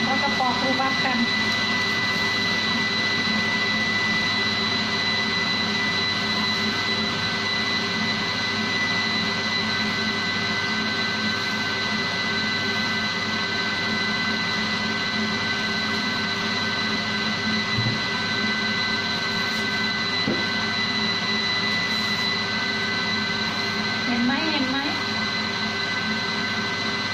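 A kitchen blender grinding sugar for a rhubarb cake, a loud, constant whirring drone that runs unbroken throughout, with a voice briefly audible over it.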